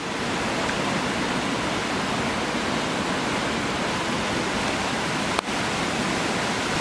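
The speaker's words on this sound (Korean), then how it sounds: "저 앞에서는 폭포가 우렁차게 떨어집니다" A winter waterfall at Dry Creek Falls roars in a dense, steady wash of falling water that runs the whole time, loud and close, with one brief knock near the end and no voices.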